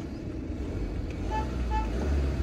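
A BMW car's engine runs steadily in the open, a loud low rumble with traffic-like noise and a couple of brief tonal chirps, no talk over it.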